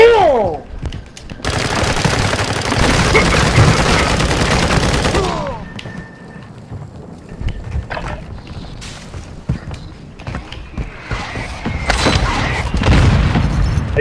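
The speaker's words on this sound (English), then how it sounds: "They trying to put a mortar strike on us so they can come up." Heavy explosions and rumbling blasts of a mortar strike in the video game Call of Duty: Modern Warfare II, a loud sustained barrage over the first few seconds, then scattered booms and gunfire, with a voice briefly talking.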